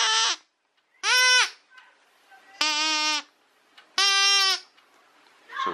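A groan tube toy blown into from either end gives four loud, sustained moaning tones in a row, each roughly half a second to a second long, separated by short pauses.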